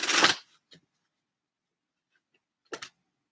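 Queen of the Moon Oracle cards shuffled in a quiet room: one brief close riffle of cards at the start, a tiny tap, then another short flutter of cards after a pause.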